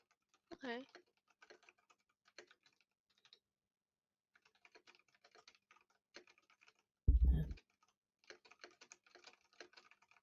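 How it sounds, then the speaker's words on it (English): A loud computer keyboard clacks in quick, irregular bursts of close, sharp keystrokes, with a heavier thump partway through and short quiet gaps between runs. "Cause I can hear the keyboard a good bit."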